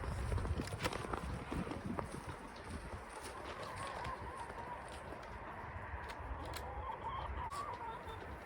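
Chickens cluck and murmur softly amid steady wind-like noise outdoors in winter in northern Indiana, with occasional sharper clucks standing out.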